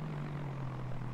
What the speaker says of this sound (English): we have a tiny civilian Cessna overhead